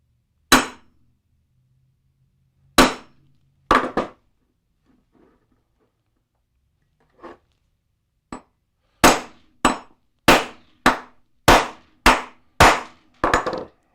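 Sharp hammer strikes ring out while assembling an RC field charging power rig, a few scattered blows at first, then a quick steady run of about ten loud hits near the end.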